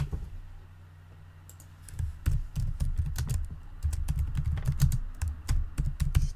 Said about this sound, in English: I'll type them out.